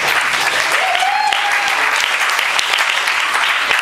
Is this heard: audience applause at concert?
yes